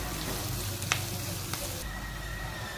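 Coriander and curry leaves hit hot oil for a tempering in an Indian avalakki uppittu, giving a steady close sizzle and crackle with a couple of faint clinks of stirring, and no speech.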